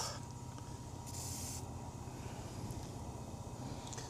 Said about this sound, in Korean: 세차들 오시게 되면 저희가 이렇게 서비스로 저렴한 스프레이 전부 뿌려서 깔끔하게 만들어 드리고 있습니다